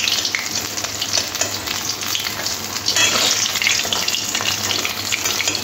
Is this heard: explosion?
no